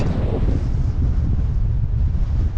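Strong wind buffets the microphone on a Lake District fell near Blencathra and Sharp Edge, a loud, continuous low roar and rumble with no voices.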